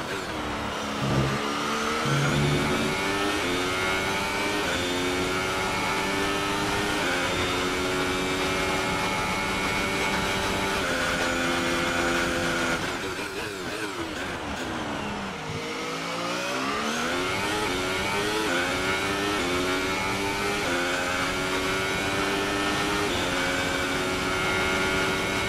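A Formula 1 race car engine in a video game revs continuously at high pitch, rising and falling through gear changes, with a brief dip and sweep midway before climbing again.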